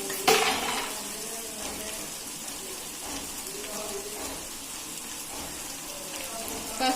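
Okra and cashews frying in a pan with turmeric, giving a steady soft sizzle with light crackle throughout and occasional stirring clatter, continuous and close with no talking.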